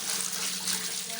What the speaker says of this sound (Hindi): ये ठंडा पानी इसलिए इसके ऊपर डालते हैं, ये आपस में चिपके ना